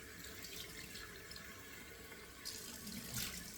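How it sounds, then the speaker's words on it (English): Cold water runs from a bathroom tap into a sink in a steady, quiet stream, with a brief louder burst of splashing near the end as water hits the face; close by, no talking. "Got to close these pores with 2 splashes of cold water."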